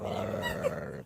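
A dog in a played-back clip growls in a steady, low rumbling snarl for about a second, close and fairly loud, with a brief yip-like rise before it cuts off.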